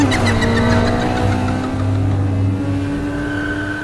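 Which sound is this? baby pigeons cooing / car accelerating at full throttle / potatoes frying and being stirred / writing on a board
car accelerating at full throttle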